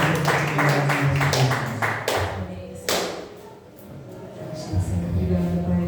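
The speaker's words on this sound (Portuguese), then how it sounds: "Vamos me dar salva de palmas para Jesus" Church congregation at an evangelical service breaking into sustained, dense applause for Jesus, with a voice and music running underneath the clapping throughout.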